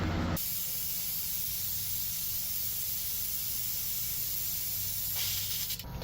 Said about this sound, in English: I just sprayed reducer all over this thinking it was white.